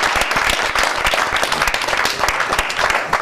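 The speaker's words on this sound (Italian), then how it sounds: "facciamo un applauso a Maxi Lopez." A studio audience on an Italian television sports show claps for a footballer, a brisk, steady round of applause heard close throughout.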